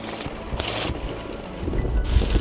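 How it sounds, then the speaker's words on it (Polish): Strong gusts of wind during a violent thunderstorm roar loudly and close against the microphone, surging and easing in short bursts. "Bardzo silne porywy wiatru."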